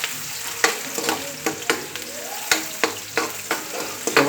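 Onion and mixed vegetables for a meatless Kapampangan-style sautéed miki noodle dish sizzle in a hot pan, with regular sharp scrapes and clacks from a spatula stirring them, close and fairly loud.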